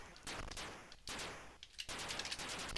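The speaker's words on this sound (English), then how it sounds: "Alright, so you can shoot the missiles." Rapid gunfire from a ship shooting down missiles in the Atari ST game Oids, a dense stream of synthetic shots with brief gaps, loud and with no talk.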